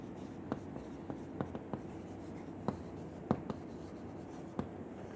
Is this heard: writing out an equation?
yes